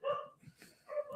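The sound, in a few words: dogs barking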